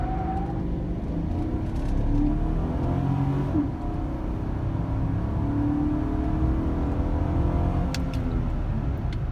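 A 2015 Chevy 1500 pickup with a 5.3L V8 accelerating hard from a standstill, its engine drone rising steadily and holding a loud, continuous roar for several seconds, heard from inside the cab with no talking.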